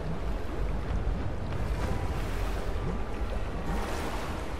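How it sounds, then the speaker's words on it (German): Steady rushing water wash in Rise of the Tomb Raider as a flooding chamber slowly fills, a continuous broadband churn with a windy, surf-like texture, fairly loud and unbroken throughout with no voices. "Oh, das Wasser steigt jetzt aber auch wirklich sehr,"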